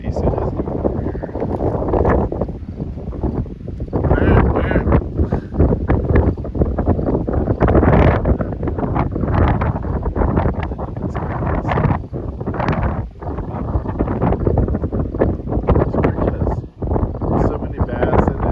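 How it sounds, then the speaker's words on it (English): Gusty wind buffets the microphone on a ride along a creek near a dirt road, a steady roaring rumble that swells and dips throughout, with a person talking over it at times. "It's kind of windy"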